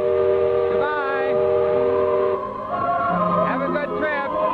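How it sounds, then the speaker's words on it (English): A steamboat whistle at Disneyland on its 1955 opening day sounds a long, steady, loud blast as the boat departs, with voices talking beneath it. "There goes the whistle."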